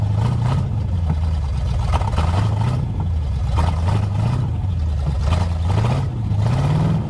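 A 1973 Ford Mustang Mach 1 engine runs just after starting, loud and close, with a steady rough idle that swells in repeated slow revs. It may still be misfiring and sounds a little weak.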